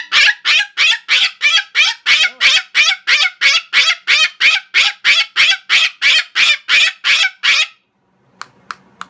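An umbrella cockatoo gives a long run of about twenty loud, harsh squawks in a steady, rapid rhythm, close and dominant, then stops, leaving a few faint clicks and rustles.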